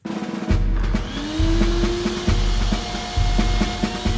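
A household vacuum cleaner switching on with its suction running, a steady loud motor drone with a rising whine, broken by repeated rhythmic knocks and rubbing against a board as a suction pad is held in place.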